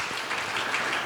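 Conference audience applauding after a talk slide, a dense wash of many hands clapping at steady volume through the whole short stretch, with no voices over it.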